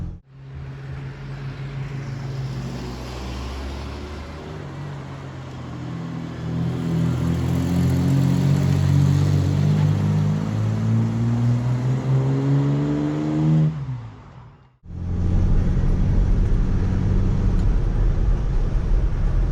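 A Nissan D21 V6 4x4 pickup pulls away from almost a standstill, its engine note climbing steadily and loud over several seconds, dropping briefly at a gear change, then droning on at a lower pitch.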